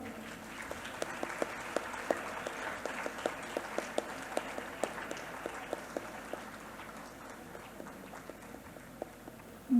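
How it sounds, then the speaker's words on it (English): Audience applause at a school annual day event, a steady wash of many hands clapping that holds at an even level throughout, fairly distant and without talk over it. "Let us give them a big round of applause."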